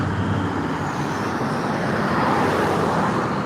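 A Dodge car driving past on a road, a steady broadband roadway rush with engine and tyre noise that holds at a fairly loud level, with no voices.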